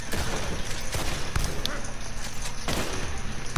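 Several sharp rifle shots crack at irregular intervals in Red Dead Redemption 2 Online, spread across dense game noise with voices underneath.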